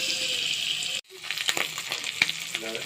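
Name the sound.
egg pieces frying in oil in a wok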